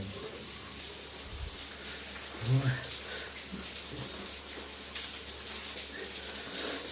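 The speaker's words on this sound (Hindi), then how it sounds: "मज़ा आ रहा है नहाने में, हकीकत में।" Water from a shower fountain pours steadily and continuously during bathing, a close hissing rush that fills the whole stretch, with faint voices beneath it.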